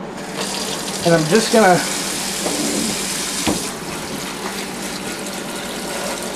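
Lukewarm tap water runs over shrimp in a small strainer, making a steady splashing rush that goes on under a brief spoken line and carries on after the talk stops.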